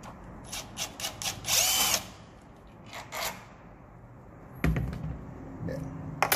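Power drill backing out the middle screw of a lock plate during a Euro profile cylinder replacement, with short whirring bursts that start and stop, a longer run near the middle and another near the end, close and fairly loud.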